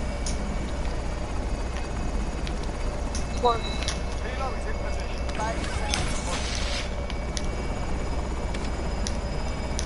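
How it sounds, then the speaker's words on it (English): Helicopter rotor drone holding steady throughout, a constant low thrum with faint engine whine, heard under scattered background voices and other noises. "Now let's hope somebody don't shoot that helicopter down."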